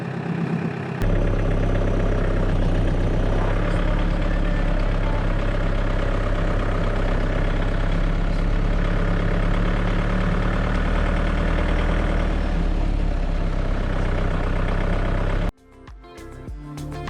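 A vehicle engine idles steadily with a low, even rumble for most of the stretch, then cuts off abruptly near the end.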